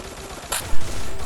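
A burst of gunfire from the mobile shooter Free Fire cracks out in one short loud volley over steady game background noise.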